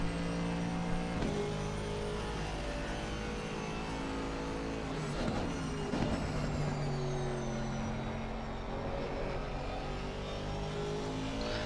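An Aston Martin GT3 race car engine in a racing simulator roars steadily at high revs with shifting tones as it climbs through gears, loud and continuous, during an endurance race at Silverstone.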